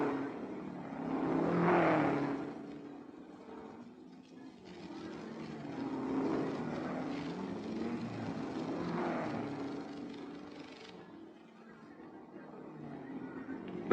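Vintage Ferrari racing cars at the 1961 Tour de France Auto in Pau, engines rising and falling as they pass at moderate distance, one louder sweep early then steadier roaring passes, with no talk.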